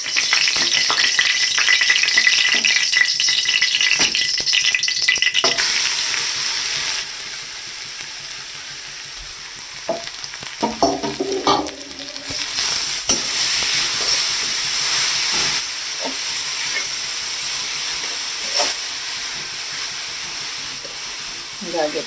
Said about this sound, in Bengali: এবার ঘিটা একটু গরম হয়ে গেলে এর মধ্যে আমি গাজরটা দিয়ে দেবো